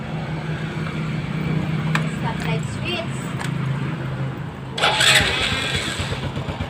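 An engine cranks on a newly installed starter motor and starts with a burst of noise near the end, after a stretch of steady mechanical rumble and background chatter.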